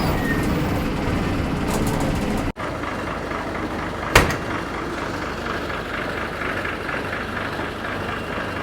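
A new MSRTC BS-6 bus pulls into Mahad bus station with a steady, loud engine rumble, broken by a brief dropout and a single sharp clunk partway through.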